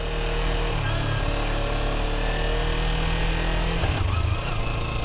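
A motorcycle driven by a learner moves off as the clutch is let out, its engine droning loudly and steadily close by, with the pitch rising a little near the end.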